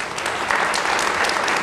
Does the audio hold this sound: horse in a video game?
no